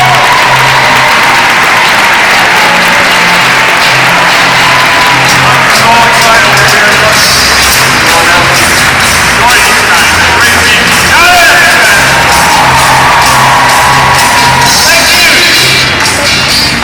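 Large conference audience at an It Works! event applauding and cheering as a speaker comes onstage, a loud sustained wash of clapping with whoops and shouts, an amplified voice occasionally over it.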